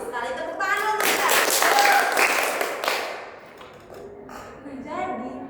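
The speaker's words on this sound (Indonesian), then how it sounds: "Terus sekali tepuk tangan dulu kita" A group of students in a classroom counseling session claps together for about two seconds, a dense burst of applause between stretches of someone speaking.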